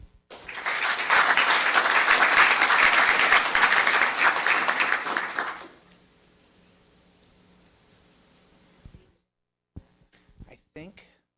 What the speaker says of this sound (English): Let's give a round of applause to all of these folks.